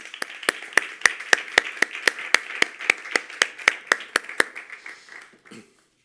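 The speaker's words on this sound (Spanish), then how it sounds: "Un fuerte aplauso para ellos." At a flamenco guitar contest final, a few people clap in a slow, even rhythm, each sharp hand clap distinct and close, about twenty in a row before tapering off into silence.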